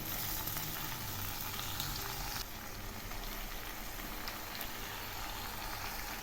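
Malabar spinach (pui shak) frying in a pan with ground spices, a dense, steady sizzle with bubbling, close and continuous, with a slight shift partway through as the pan is stirred.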